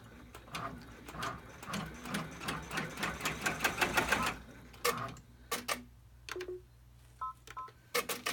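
Embroidery machine taking a few stitches to tack fabric down in the hoop, first a rapid run of evenly spaced mechanical clicks, then several separate sharp clacks and beeps with pauses between, close and quiet.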